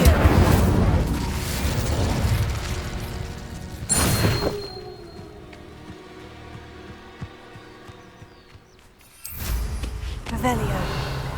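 An Incendio fire spell cast in the Hogwarts Legacy video game bursts with loud booming blasts, a fiery roar fading into a quieter magical hum, then another heavy burst toward the end.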